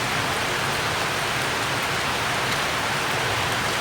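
Heavy first monsoon rain pours steadily over a Ratnagiri village, a dense, even hiss of drops drumming on surfaces that stays constant and close throughout, with no voices.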